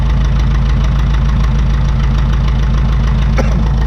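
A 1952 McCormick Super WD-6 tractor engine idles loud and close with a steady low knocking throb, its revs creeping slightly higher, running alone with no voices.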